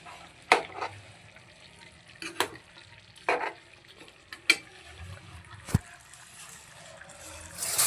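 Chicken curry with chilli powder simmers and fries in oil in a pan, a low bubbling sizzle broken by several sharp scraping knocks of a spoon stirring against the pan at irregular intervals.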